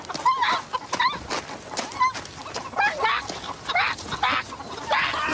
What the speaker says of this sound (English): How did the chickens get out?